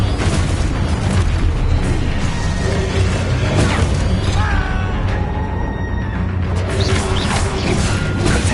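Confringo fire spell bursts in the Hogwarts Legacy video game amid a dense, continuous din of booming blasts and crashes, loud and unbroken throughout a chaotic spell-casting duel.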